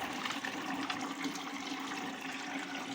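Water pours steadily into hoses as a continuous, even rushing wash lasting the whole few seconds, moderately close with no voices over it.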